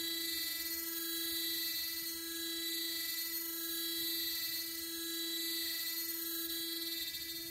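CNC machine hard milling a steel shaft, a constant close high-pitched whine with strong steady tonal harmonics from the spindle and cutter, unbroken throughout with only slight swells in level.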